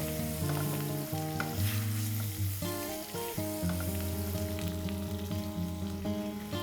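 Onion and masala frying in a pan on lowered gas for a tendli (ivy gourd) fry, giving a steady, close sizzle throughout with background music over it.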